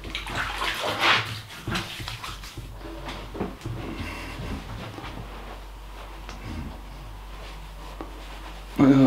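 Tap water runs and splashes during the rinsing of shaving soap from a face, irregular sloshing close by, with a louder burst at the very end.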